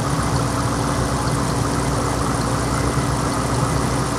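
A 2002 Chevrolet Corvette C5 with the LS1 V8 idles on a cold start. It makes a steady, continuous low rumble with an even hum, close and fairly loud throughout, with no voices.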